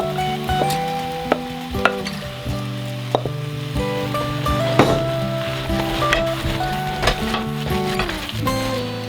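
Vegan lasagna filling with plant-based burger mince and fennel seeds is stirred in a pan with a soft sizzle, punctuated by repeated scraping and clacking strokes of the utensil, close and moderately quiet, with no talking.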